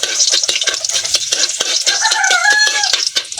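Onion goes into garlic that has browned in a hot pan, with a bright sizzle and scraping stirring throughout, loud and close, no talking.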